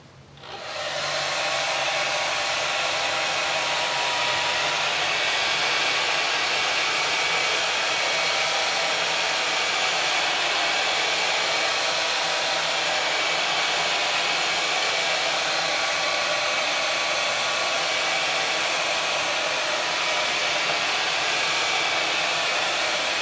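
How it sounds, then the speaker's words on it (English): A hair dryer blows on wet marbled paper made with the shaving cream technique, a loud, steady whooshing roar that starts abruptly and runs unbroken, close and alone with no voices. "I'm going to use a hair dryer and I'm going to dry it a little bit."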